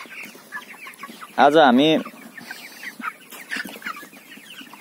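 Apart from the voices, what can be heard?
chickens clucking at a poultry farm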